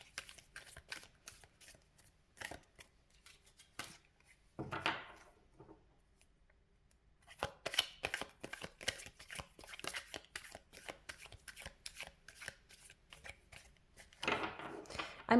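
Tarot cards shuffled by hand in repeated riffling bursts with short pauses between, close and fairly quiet, no talking.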